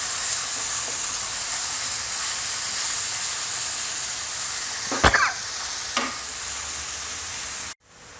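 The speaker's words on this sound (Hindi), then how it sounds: "हमने 1 बाउल पानी डाला है।" A bowl of water goes into masala frying in a pan, and the steady loud sizzle gives way to a sharp burst and crackle, followed by a quick stir before it suddenly cuts off.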